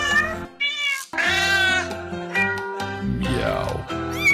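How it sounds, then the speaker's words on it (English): Several distinct cat meows from the video game Cat President, each a different pitch and character, following one after another with brief gaps, close and clear with no talking. "At this screen you get to hear each cat's unique meow."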